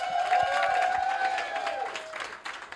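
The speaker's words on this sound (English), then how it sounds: "Give a thunderous round of applause to Mr. Angus Bradshaw." Applause from the audience at a torch awards ceremony, steady clapping with some crowd noise that swells and then tapers off over a few seconds, moderately close.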